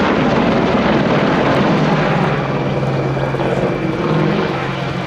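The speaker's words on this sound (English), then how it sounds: "As Apache approaches Ground Center, they're now pulling up for a new maneuver for the 2016 season." An Apache helicopter flies a display manoeuvre at the 2016 Yeovilton International Air Day, its loud, steady rotor and engine roar dominating throughout.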